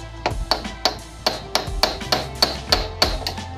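Sharp metal strikes of a hammer on a flat screwdriver drive out a ball-race bearing from a Raider 150 motorcycle steering knuckle, about ten close, ringing blows at an irregular, steady pace.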